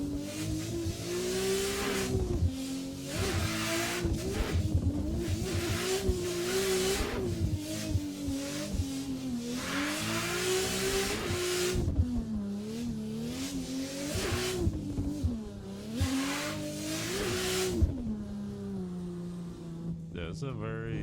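Engine of a hard-to-control car in the Tsujigiri drift mod for a racing game, droning loudly and rising and falling in pitch as the rear fishtails, with tyre squeal and skidding throughout and a fade near the end.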